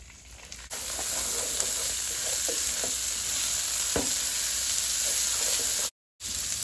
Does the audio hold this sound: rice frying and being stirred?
yes